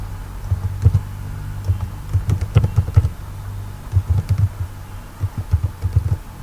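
Close, crisp keystrokes on a computer keyboard as a password is typed, coming in quick irregular bursts with short pauses between them and no voices.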